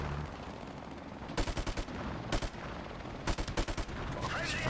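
Short bursts of automatic gunfire from Call of Duty 4 Modern Warfare Remastered crackle out in three quick clusters of rapid shots against a steady game background, with no talking.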